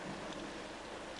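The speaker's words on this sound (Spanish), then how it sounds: "Luego comenzó a llover a cántaros." Steady heavy downpour with a thunderstorm rumbling behind it, a dense continuous wash of rain at constant loudness throughout, with no talking.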